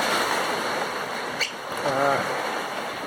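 A river in full flood rushes past in a steady, loud roar of churning water, with wind buffeting around it and a brief tonal sound partway through.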